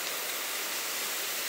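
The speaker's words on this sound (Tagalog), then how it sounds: "Ang lakas ng ulan ngayon." Heavy rain falls during a storm in Tokyo as a dense, steady hiss with no breaks. It sounds close and fairly loud.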